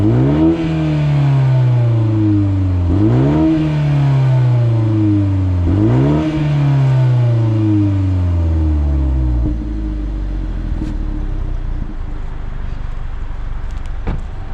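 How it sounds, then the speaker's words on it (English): A 2023 BMW 430i xDrive convertible engine is revved three times, each a sharp rising roar through the exhaust that slowly sinks back. A low, steady idle rumble follows, loud and close with no voices. "I'll give it a rev here so you guys can hear it."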